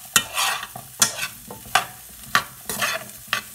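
Cauliflower stuffing sautés in a pan while a spoon stirs it in about six sharp, rhythmic scraping strokes over a soft, close sizzle, with no voices.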